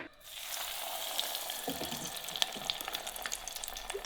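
Frozen onion rings fry in oil in a pyramid pan fryer, giving a steady, close sizzle with fine crackling pops, fairly quiet and without voices.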